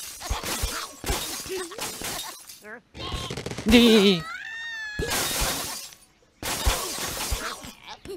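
Glass blocks shattering in Angry Birds Friends, a brief crash among game sound effects, partly under and between Russian speech.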